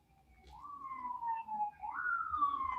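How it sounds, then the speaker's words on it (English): An ambulance siren wails as it passes, a single clear tone sliding down, then jumping up and gliding down again, fairly loud and steady against quiet background rumble. "The ambulance going by."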